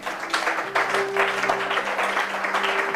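A congregation applauding during a Bible teaching, a dense sustained wash of clapping from many hands filling the whole stretch, with a steady tone running underneath.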